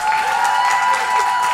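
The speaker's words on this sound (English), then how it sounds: "Let's give him a round of applause" Live concert audience applauding and cheering for a keyboard player, a short burst of steady clapping with crowd noise, fairly loud and without speech.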